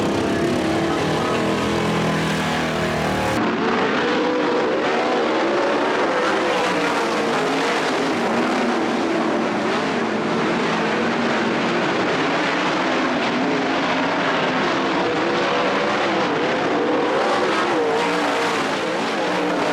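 Sprint cars race around a dirt track at night during the 2024 Australian Sprint Car Championship, a loud continuous engine roar rising and falling as the cars circle past, with no talk.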